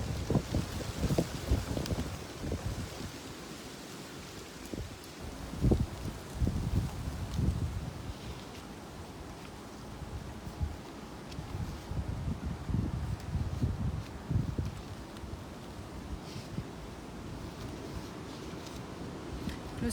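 Outdoor wind rumbles against the microphone in uneven low gusts over a faint, steady background hiss. It keeps going for the whole stretch at a moderate level, with no talking.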